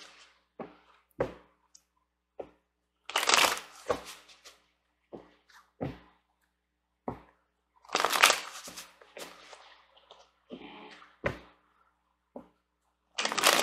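Tarot cards are shuffled in short, separate bursts of riffling and slapping, close and crisp, with quiet pauses between each handful.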